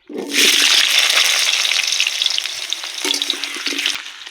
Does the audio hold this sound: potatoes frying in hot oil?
yes